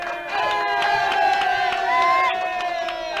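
A small baseball crowd by the Mustangs dugout cheers and whoops after a two-run double in a Mustangs v Mudcats game, loud and close for a few seconds, with voices shouting over one another.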